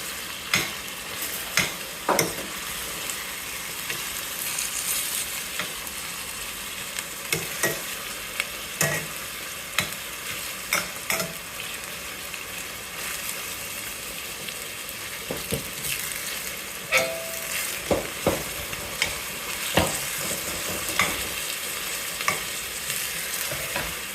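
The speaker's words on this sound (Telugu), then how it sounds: "ఇప్పుడు టమాటో యాడ్ చేసుకుందాం దానిలో ఈ టమాటో బాగా మగ్గేంత వరకు రెండింటిని కలిపి మగ్గించుకోవాలి" Tomatoes and onions fry in a pan, giving a steady sizzle broken by frequent sharp scrapes and clicks of a spoon stirring the mixture, close up with no voices.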